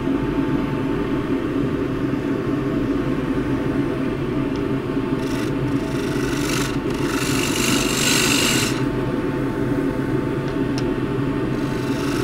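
A wood turning tool shear-scrapes a rough board of unidentified hardwood on a lathe. A steady, close rasping rub rides over the lathe's constant hum, with brighter scraping bursts in the middle and no speech.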